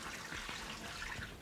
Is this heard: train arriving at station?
no